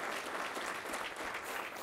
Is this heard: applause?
yes